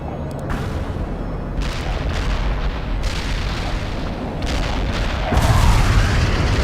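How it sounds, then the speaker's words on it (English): Heavy artillery barrage in the video game World in Conflict: a continuous rumbling roar of distant shelling with repeated muffled booms that swells louder and heavier toward the end, with no talk. "Heavy artillery barrage inbound."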